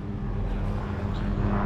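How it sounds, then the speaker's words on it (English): A helicopter flies overhead in rural Molokai, Hawaii, near a fire, giving a steady low engine drone with a throbbing rotor rumble that neither rises nor fades. "Oh yeah, helicopter."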